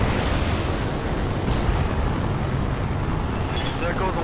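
Griffin mech exploding in the Battletech video game, a loud, continuous roaring blast with rumbling debris that fills the whole stretch without letup.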